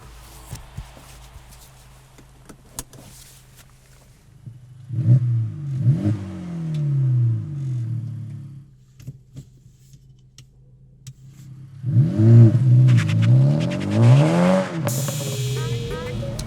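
A 2024 Acura Integra Type S accelerates in two strong bursts, its engine climbing through the revs between quieter stretches of road and cabin noise.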